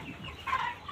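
Chickens on a poultry farm give a brief, soft cluck in a quiet early-morning setting, one short call standing out faintly against near silence.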